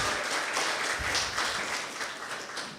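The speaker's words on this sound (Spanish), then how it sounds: "Denle un aplauso a Dios." A church congregation applauds through a short stretch, a dense wash of clapping that fades slightly toward the end.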